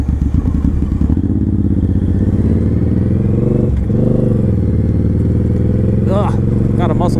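V-twin cruiser motorcycle, a Yamaha Raider 1900 or Suzuki M109R Boulevard 1800, riding at steady speed with a constant loud engine drone and a brief dip near the middle, with talk running over it throughout.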